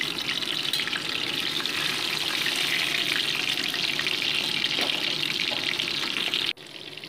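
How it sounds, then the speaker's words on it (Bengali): Fish heads frying one by one in hot mustard oil in a wok, a steady dense sizzle and crackle running loud and unbroken before dropping away abruptly near the end. "এবার একে একে মাছের মাথাগুলোকেই ভেজে নিচ্ছি।"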